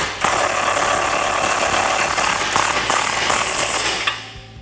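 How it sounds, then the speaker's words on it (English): A hand ratchet with an 18mm socket tightens the upper control arm nut on a 2014-2020 Ford F-150 during a Rough Country 3-inch lift install, giving steady, rapid, close metallic clicking for several seconds, heard alone. "now we can take an 18mm socket to tighten down our upper control arm nut"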